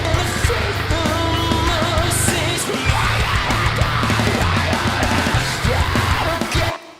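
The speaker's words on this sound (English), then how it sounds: "the scream sounds better because this plugin, Clip Distortion, is just giving it extra grit." A harsh, gritty screamed vocal processed with a clip distortion plugin rides over loud, dense music, sustained and distorted for several seconds before cutting off at the end.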